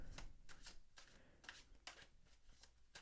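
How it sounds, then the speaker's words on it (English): Tarot cards are shuffled by hand in a run of quick papery riffles and slaps, about seven bursts in three seconds, close and fairly soft with no talk. "I'm going to shuffle a little more"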